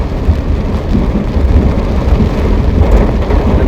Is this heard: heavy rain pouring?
yes